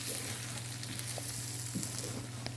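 Kuzhambu masala powder frying in a pan with chickpeas for a spicy tamarind curry, a steady close sizzle with a few faint stirring scrapes under a low background hum.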